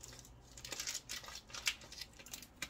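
Scissors snip open a plastic vegetable pack for a vinaigrette salad set, the short crisp cuts and light crinkling coming close and fairly quiet, with no talk.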